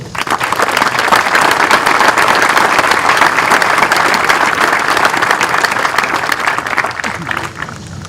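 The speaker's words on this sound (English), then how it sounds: "Please join me in a round of applause for the families of these cadets and for their support." An audience at a basic camp cadet graduation for the 4th Regiment applauds: a loud, dense, sustained wash of clapping from a large crowd that tapers slightly at the end.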